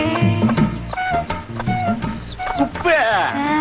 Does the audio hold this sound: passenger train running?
no